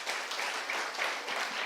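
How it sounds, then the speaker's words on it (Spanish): Church congregation applause during a Spanish-language sermon, a continuous wash of many hands clapping at moderate volume with no pause across the short stretch. "Denle un fuerte aplauso al Señor."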